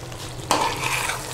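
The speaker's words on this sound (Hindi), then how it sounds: "और इसे अच्छी तरह से मिक्स कर देंगे।" A spoon stirs whole green chillies into a potato and eggplant karahi curry frying in the pan. A steady sizzle turns into a sudden scraping stir halfway through, close and without talk.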